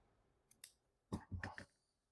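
Scissors snip through goggle filter material while a Hoth Rebel Trooper cosplay prop goggle kit is assembled: a couple of faint clicks, then a short run of close, crisp cutting snips, quiet and with no talking.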